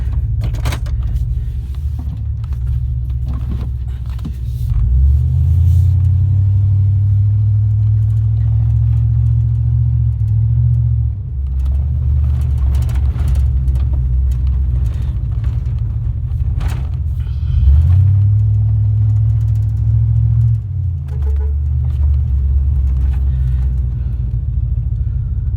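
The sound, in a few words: 2000 Chevy C3500 pickup truck driving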